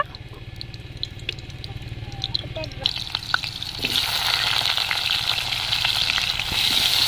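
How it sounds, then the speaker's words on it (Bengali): Potatoes frying in oil in a wok for a village-style jackfruit curry, a steady close sizzle that swells louder and brighter midway as the oil crackles over a constant hiss. "কড়াইতে তেল দিয়ে আলুগুলো ভেজে নেব।"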